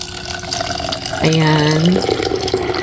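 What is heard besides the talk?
water poured onto chia seeds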